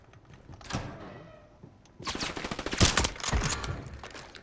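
Shotgun gunfire in a video game: several sharp, loud blasts in quick succession, starting with one shot and then a dense cluster, close and punchy with no talk over it.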